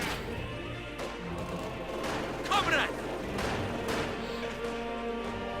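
Machine gun fire and battle noise in the World War II strategy game Company of Heroes 2, with bursts and crackling shots spread through a busy mix under a commentator's steady talk.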